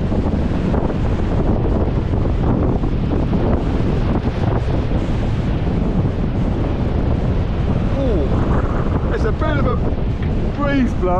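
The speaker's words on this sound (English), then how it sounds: "Breeze blowing." Steady outdoor breeze buffets the microphone as a wide, continuous rushing roar near water, with faint sea and wave wash beneath and brief higher chirping near the end.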